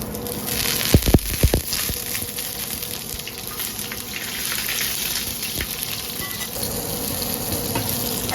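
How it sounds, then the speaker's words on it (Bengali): Bay leaves and nigella seeds frying in hot oil, a continuous loud sizzle with a few sharp pops and crackles early on, close and steady throughout. "আমি কিছুক্ষণ ভেজে নিব তেজপাতাগুলো লাল হওয়া পর্যন্ত"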